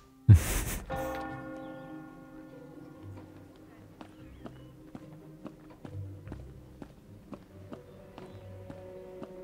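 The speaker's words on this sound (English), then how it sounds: "Them footstep noises." Regular footsteps in the Harry Potter and the Prisoner of Azkaban video game, steady evenly spaced clicks walking along after a loud bright impact at the start, with faint sustained tones lingering underneath.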